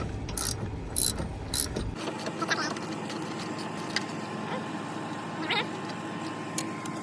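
A ratchet wrench with a 15mm socket turns a bolt on the washer fluid reservoir of a 2012-or-later Peterbilt 389/388 truck, giving close clicking bursts first and then a quieter mechanical hum with occasional taps.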